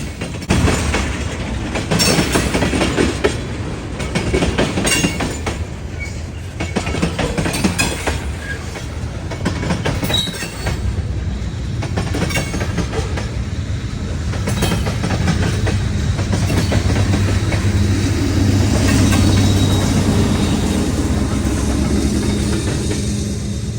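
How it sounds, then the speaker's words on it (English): A long freight train of autorack cars rolls steadily past in Cordele, Georgia, with loud continuous rumble, rhythmic clickety-clack of wheels over rail joints and faint metallic squeals, close by and sustained throughout. "an enormous swath of autoracks gracefully rolling by"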